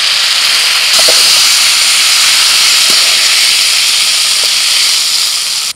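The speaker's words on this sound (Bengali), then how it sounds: "তেলের মধ্যে ফোড়নে দিচ্ছি তেজপাতা, শুকনো লঙ্কা, 5 ফোড়ন, দিচ্ছি পেঁয়াজ কুচি" Bay leaf, dried red chilli and five-spice tempering hitting hot oil, then chopped onion going in, for a Bengali dish of Malabar spinach with rohu fish; a loud steady hiss that holds almost the whole time, with faint clinks.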